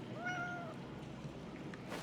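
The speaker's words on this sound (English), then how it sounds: "Oh, kitty." A cat in the Indiana Jones and the Great Circle video game gives one clear rising-and-falling meow near the start, then quiet ambient hum.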